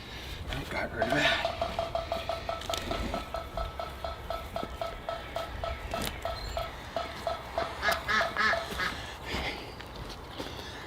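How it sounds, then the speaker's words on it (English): A woodpecker pecks on a metal post cap in two quick, ringing rolls of rapid taps, faint and somewhat distant against quiet outdoor background. "That sound you hear is a woodpecker."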